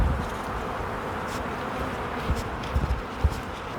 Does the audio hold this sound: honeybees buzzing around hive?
yes